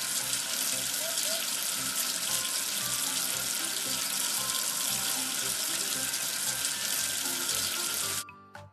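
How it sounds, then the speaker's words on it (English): Water runs steadily from a tap into a sink, a loud, continuous rushing splash rinsing soap away, lasting several seconds before cutting off abruptly near the end. "Wash away the soap with water."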